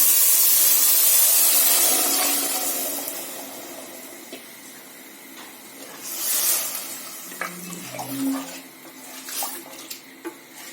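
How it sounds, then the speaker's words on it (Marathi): Water poured into a pressure cooker pan of rice for jeera rice: a loud, close gush at first that tapers off, followed by quieter splashes and stirring clinks. "दोन वाटी तांदळासाठी 4 वाट्या पाणी टाकायचे"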